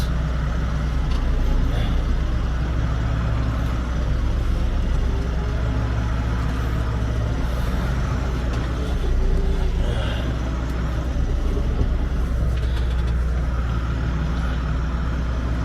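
A John Deere 7040 tractor reverses slowly into a tight farm shed, its engine a steady low rumble close by, constant throughout with faint clatter on top.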